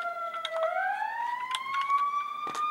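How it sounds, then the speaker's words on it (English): A police car siren wails in a rising, sweeping tone, clear and fairly loud, passing at moderate distance and sounding on its own without talk. "there's a police siren"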